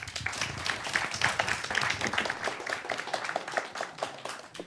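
Audience applause at a team quiz after a correct answer, a patter of scattered hand claps from a small room crowd, steady and moderately loud for several seconds before thinning out.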